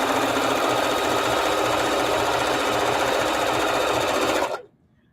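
A sewing machine stitching quilt blocks runs in one loud, close, continuous rapid whir with a pulsing needle rhythm, then stops abruptly near the end into quiet.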